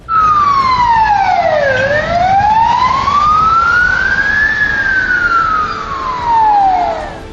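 A loud ambulance siren wails continuously close by on a highway in Kyiv, its pitch sweeping down, up and down again, with no talking.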